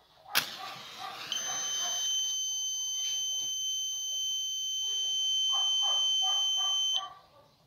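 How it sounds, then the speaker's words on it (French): An Arduino flame detector's buzzer, set off by a lit match, shrills with a steady high-pitched electronic tone for about six seconds before cutting out, after a sharp strike near the start and faint background sounds beneath. "nous allons utiliser une boîte d'allumettes et des tiges sur le détecteur de flammes et le buzzer va retentir"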